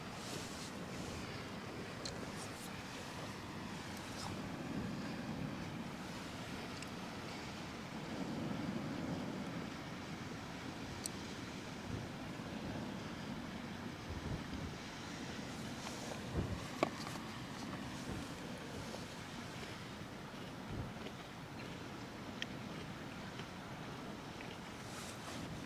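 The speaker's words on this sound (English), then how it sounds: "we got an inland ship coming in as well" An inland ship passes on the Westerschelde in the Netherlands, a steady low engine rumble and water wash heard from shore under wind noise, with no talking.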